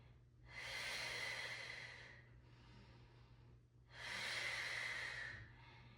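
Two long, strong breaths taken while holding a mat Pilates position, each a forceful airy rush through the nose and mouth lasting over a second, with quieter breathing between them and close to the microphone.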